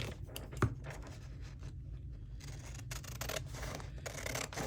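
Scissors snipping and trimming paper for a Mardi Gras junk journal, with small crisp cuts and rustling handling noises over a low background hum, close and fairly quiet, no talk.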